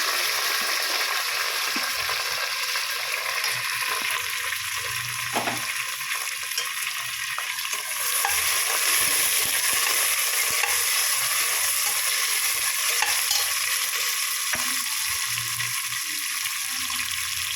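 Sliced onions, curry leaves and green chillies fry in oil in a pan for chicken biryani, giving a loud, continuous close sizzle with occasional stirring scrapes and clinks, intensifying midway.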